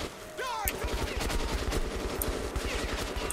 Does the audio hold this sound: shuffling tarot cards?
no